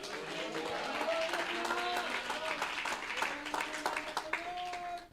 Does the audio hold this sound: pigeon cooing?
no